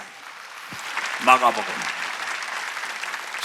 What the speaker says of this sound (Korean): 믿으면 박수 치라